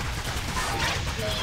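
A galvanic cannon fires in the video game Sanctum 2, a dense burst of crackling, rapid-fire blasts filling the short stretch with continuous noisy impacts.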